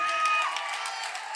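Brief burst of audience clapping and cheering at an international mushaira poetry gathering in Patna, a dense crowd applause that fades slightly over a second and a half.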